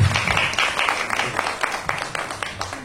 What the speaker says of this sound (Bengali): এদের দুজনের জন্য একটা হাত তালি।